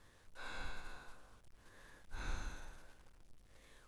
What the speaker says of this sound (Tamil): அவளது மூச்சு